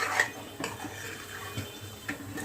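Vegetables for khichdi stirred in a pot over a low flame, giving soft scraping clinks of a spoon against the pot at irregular intervals, close and fairly quiet, with no talk.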